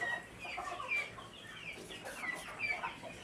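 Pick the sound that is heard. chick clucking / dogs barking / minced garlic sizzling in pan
chick clucking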